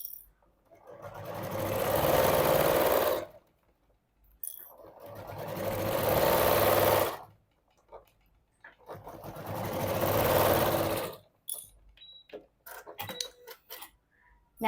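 A sewing machine set to a 2.4 stitch length stitches a quilted boxed fabric pouch, running in three steady, sustained bursts with short pauses between them, followed by faint handling noises.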